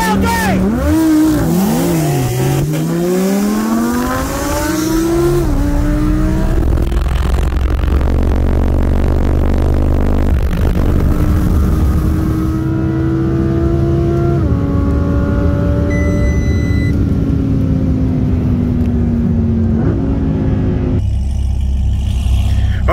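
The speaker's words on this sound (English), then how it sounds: "I'm in the Audi R8, and we're going to go for a dig." A 2017 Audi R8 V10 Plus and a C7 Corvette Z06 with bolt-ons on 93 octane launch side by side from a dig, engines revving hard through several rising upshifts, loud and close from inside one car, with voices over the engines.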